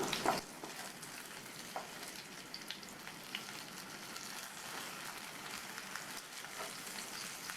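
Paneer pieces frying in oil on a tawa over a low-medium flame, a steady close sizzle and crackle with a brief louder spatter at the start, no voices.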